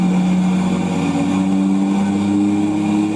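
Car engine on a dyno during a pull, a steady loud drone whose pitch climbs gradually as the revs rise, close and continuous with no talk.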